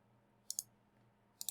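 Two pairs of crisp computer mouse clicks, close and sharp, separated by about a second of quiet room tone, with no talking.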